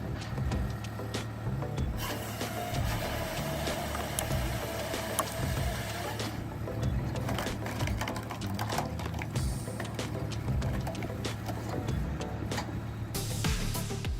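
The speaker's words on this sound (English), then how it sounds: "A modern John Deere 1470 machine, combined with a man's skillful machine control skills, make wood cutting work lighter and easier." A John Deere 1470 tree harvester cutting and processing logs, with a dense, steady mechanical roar and grinding, rasping wood noise continuing loud throughout.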